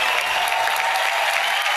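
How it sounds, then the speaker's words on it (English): A crowd applauds a youth group from the Bahamas at a rap festival. The clapping is loud and dense, with faint crowd voices mixed in throughout. "They need a lot of applause"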